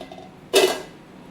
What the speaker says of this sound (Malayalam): ചീനിച്ചട്ടി എടുത്ത് വെച്ചു.